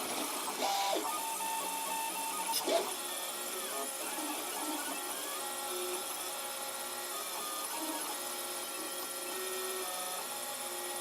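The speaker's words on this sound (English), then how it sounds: "So it's coming up to about an hour in this print." 3D printer printing a phone tripod mount, a steady mechanical whir with faint stepping tones and occasional clicks, constant and moderately quiet throughout.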